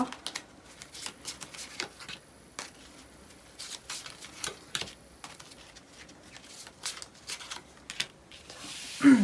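Tarot cards are shuffled and drawn by hand, giving a series of quiet, close, crisp slaps and flicks in irregular bursts against a hushed background, with no speech.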